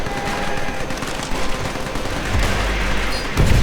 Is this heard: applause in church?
no